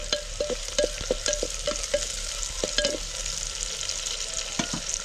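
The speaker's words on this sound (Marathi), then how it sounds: "आधी हिरवी मिरची घालू थोडीशी परतून घेऊ" Green chillies stirred into softened onion in a hot pan, with a continuous sizzle and repeated sharp scraping clicks of a spatula against the pan at an uneven rhythm, close up and with no talking.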